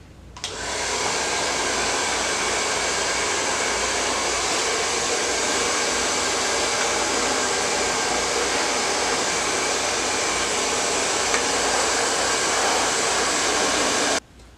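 Heat gun blowing to warm dirt bike graphics on a Razor bike, a loud steady whooshing roar that switches on, holds unbroken for about thirteen seconds, then cuts off, close up, no talking.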